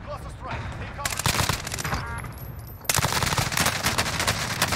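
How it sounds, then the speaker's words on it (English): A dense, roaring barrage of cluster-strike explosions in Call of Duty: Warzone, with continuous crackling blasts that swell sharply partway through. The sound is loud and close, and a voice sounds faintly under it. "Enemy cluster strike, take cover!"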